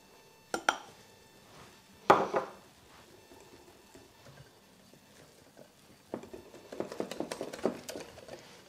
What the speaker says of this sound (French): je peux ajouter déjà la farine, tout en continuant de mélanger au fouet pour éviter d'avoir des grumeaux